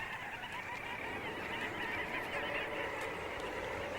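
Arctic seabirds at a cliff nesting colony, a dense continuous chorus of many honking, cackling calls overlapping into a steady din, loud and close, with no voices.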